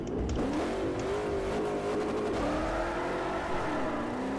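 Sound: Ford Pinto with Mustang engine accelerating, Forza Motorsport 4 video game

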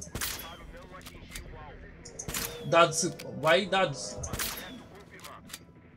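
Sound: gunshots from the video game Jurassic World Evolution 2

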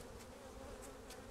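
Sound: honey bees buzzing at hive

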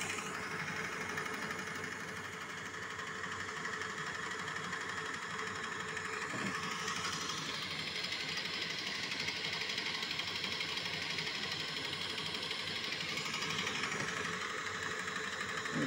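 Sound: homemade cordless-drill motor driving a sailing catamaran

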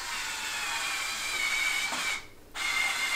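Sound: power drill driving screws slowly

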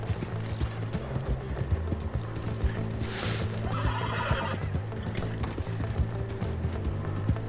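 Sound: horse neighing and galloping in the video game Red Dead Redemption 2

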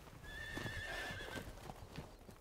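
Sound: horses milling in a corral, hooves and whinnying

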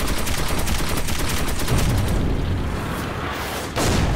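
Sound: gunfire at a Panzer in Metro 2033 video game

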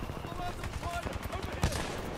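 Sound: gunfire in Titanfall 2 video game

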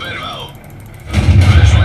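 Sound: tank cannon shot in World of Tanks video game

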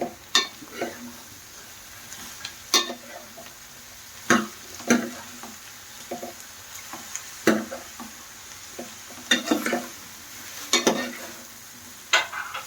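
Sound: ridge gourd pieces frying with dried prawns and onions

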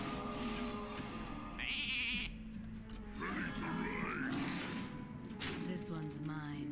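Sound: sheep bleating in the Hearthstone video game

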